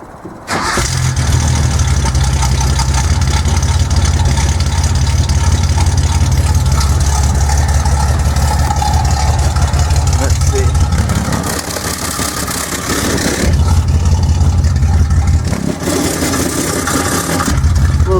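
A Datsun 240Z with new headers and exhaust starts up and settles into a loud, close, throaty idle with a steady low rumble, briefly dipping before picking back up; someone speaks over it.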